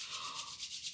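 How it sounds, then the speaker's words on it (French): Hands rubbing together, quick soft swishing strokes in a steady rhythm of about four passes, close and faint, with no voices. "je frotte mes mains."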